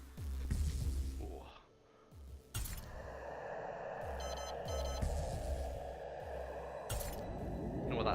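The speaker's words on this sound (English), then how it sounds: "It's a very odd alarm sound." An odd, unfamiliar alarm-like sound in the VR game PingBall, with bright glassy tones and a brief crash over a steady electronic game soundscape, with no talk.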